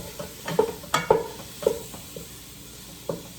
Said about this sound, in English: We're going to cook this until the meat turns brown.